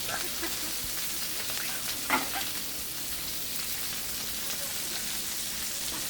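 Butter and steak sizzle on an outdoor griddle, a steady soft crackling hiss at moderate distance, with one brief louder pop partway through.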